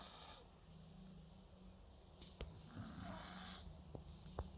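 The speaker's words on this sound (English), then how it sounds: "Yeah, now we're snoring." A sleeping cat snores softly indoors, slow breathy rasps rising and falling against a quiet room hum, with a couple of small clicks near the end.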